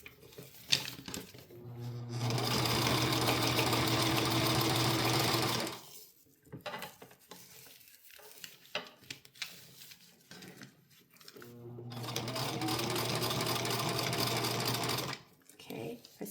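A sewing machine stitches a cloth diaper in two sustained runs, loud and steady, separated by a pause filled with rustling fabric and small handling noises, with a person speaking briefly in between.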